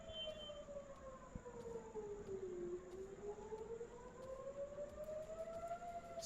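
Civil defense sirens sound across Tehran, Iran amid airstrikes, a far-off wailing tone that dips low then climbs again, steady and faint under a constant broadband hiss.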